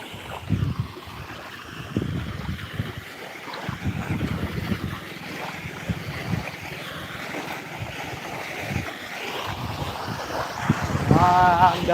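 A waterfall pours steadily beside irrigation channels, making a continuous loud rushing wash with wind buffeting the microphone throughout and no clear voices.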